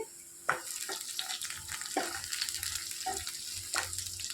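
Potato curry stirred in a pan while it fries, with soft sizzling under a few spoon scrapes and knocks, close and moderately quiet, no talking.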